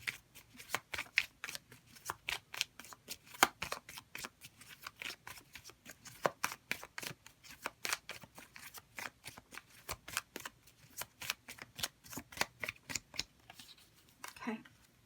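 Tarot cards being shuffled, a rapid run of crisp riffling flicks lasting about fifteen seconds, close and fairly quiet, ending with a brief rustle.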